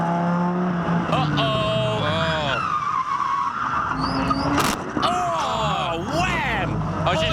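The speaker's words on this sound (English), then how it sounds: "We're on board with Crick in the Jeep Viper." Onboard a Jeep Viper GT race car at Bathurst, engine revs rise and fall through gear changes while tyres squeal and skid, loud and close, with a commentator talking over it.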